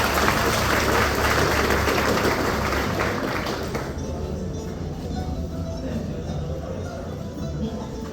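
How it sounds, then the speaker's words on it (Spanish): Applause rises from the crowd at a school graduation ceremony in Paraguay, dense and steady for the first few seconds, then thinning into a quieter murmur of scattered claps and room noise. "Fuerte también los aplausos."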